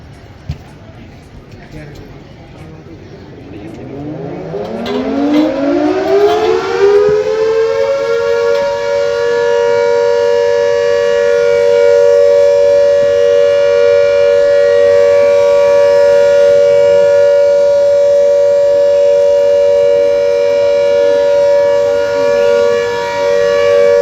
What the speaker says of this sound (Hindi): बस अभी थोड़ी देर में सायरन बजने वाला है